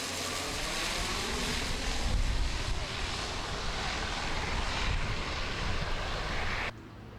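A fixed-wing airplane roars past near Gimhae Airport, a loud, broad engine rumble that swells toward the middle and holds before cutting off abruptly near the end, with no talk.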